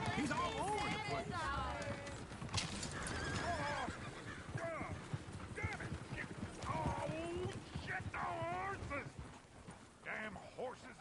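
Horse hooves clip-clopping at a run in Red Dead Redemption with repeated whinnies and neighs, a busy layered mix with voices talking over it.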